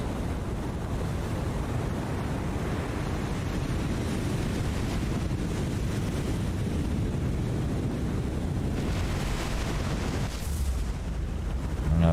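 Naval gunfire salvos and explosions from the naval combat game War on the Sea: dull booms roll under heavy, continuous rumbling noise, with a sharper blast near the end.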